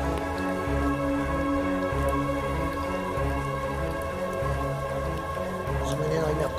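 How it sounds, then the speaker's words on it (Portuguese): Light rain patters on the water and surroundings during river fishing on the Corumbá, a soft steady drizzle under tonal humming and droning sounds that run throughout. "E começou a dar uma chuvadinha de novo, gente. Chuvinha bem fraca"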